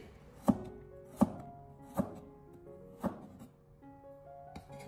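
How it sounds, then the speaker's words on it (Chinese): A kitchen knife slices a carrot into thin pieces on a cutting board, five distinct chopping thunks spaced about a second apart, close and clear against a quiet room. "我们再准备少许的胡萝卜，将它改刀切成小片"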